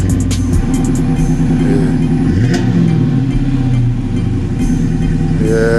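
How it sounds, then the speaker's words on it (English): A 5.7 Hemi V8 fitted with a new exhaust, revving loudly and close up with a deep, steady roar that rises and falls in pitch through the whole stretch. "he just changed the exhaust in the Hemi."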